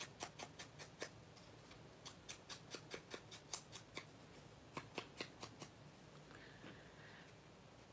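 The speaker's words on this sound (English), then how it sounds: "you can do it with scissors like this" Paper being cut with scissors, a quick series of sharp, close snips in bursts with short pauses between, quiet and alone with no talk, while making hidden paper clips.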